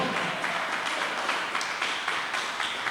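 A church congregation applauds loudly during a service, a sustained, dense wash of clapping from many hands that holds steady throughout.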